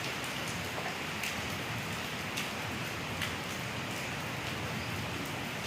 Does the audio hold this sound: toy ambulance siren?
no